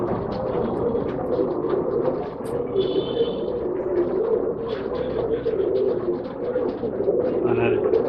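Pigeons at a pet shop in Bangalore coo in low, throaty rolls, with several birds calling at once. A steady murmur of background voices and room noise runs throughout, and there are occasional faint higher chirps.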